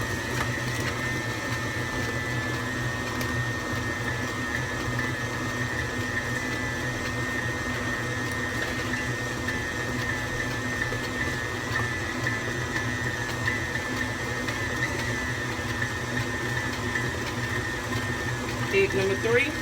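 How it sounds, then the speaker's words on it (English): An aging electric mixer beats pound cake batter as eggs are added, a steady motor drone with a constant whir that stays level and close throughout. "Might be time for a new mixer."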